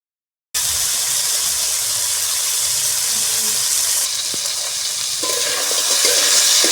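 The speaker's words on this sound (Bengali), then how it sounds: "কাঁকড়াগুলো ভাজা হতে থাক" Sea crabs drop into hot oil with a sudden, loud, steady sizzle that fills the pan after a brief silence and grows slightly harsher toward the end, with no voices.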